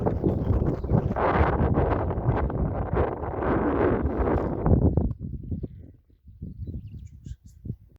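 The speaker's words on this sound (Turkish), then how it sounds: "baya bir rüzgar var" Steady wind roars and buffets close to the microphone by Aygır Lake, then drops to quieter gusts with faint rustling.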